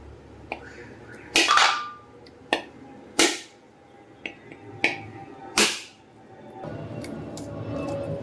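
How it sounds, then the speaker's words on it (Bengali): A coconut is struck several times to crack it open in a home kitchen, each sharp knock standing out clearly against a quiet background, followed by a soft rustling spell. "এই নারকেলটা আমি ফাটিয়ে এটা কুড়িয়ে নেব"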